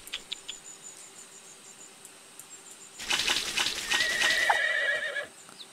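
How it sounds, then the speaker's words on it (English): A horse in the video game Zoo 2 Animal Park gives a loud, shrill whinny lasting about two seconds, set against a quiet backdrop of faint ambient game sounds and chirping insects. "The horses are very pretty."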